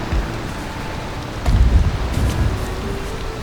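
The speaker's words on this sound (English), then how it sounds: "Oh, come on, rain, let off." Steady rainfall in the video game Valheim, a dense hiss of falling rain with a low rumble swelling midway, constant and fairly loud with no voices.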